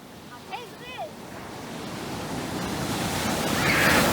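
A waterfall reached after a mile-long hike rushes as a broad, steady roar that grows louder and fuller, with a couple of brief voiced sounds near the start.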